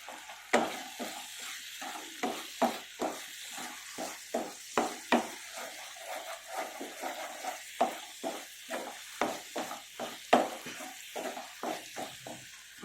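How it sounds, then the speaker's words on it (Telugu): Coconut burfi mixture being stirred in a pan with a spoon, a soft rhythmic series of scraping strokes over a faint sizzle, close but quiet. "ఇంకా బాగా తిప్పుతూ ఉండాలి."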